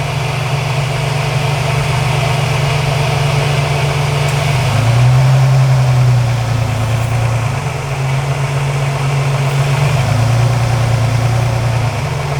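A car engine idles steadily and close, and its running note dips and changes several times as a vacuum line is pulled and replaced.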